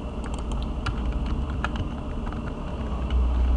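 Keys patter on a computer keyboard in a quick, light, irregular run of taps over a steady low background hum, close by and without speech.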